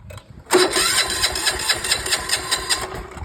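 An old Japanese Maruyama diesel sprayer engine with electric start cranks briefly, catches and settles into a steady, loud, close idle with an even throbbing rhythm.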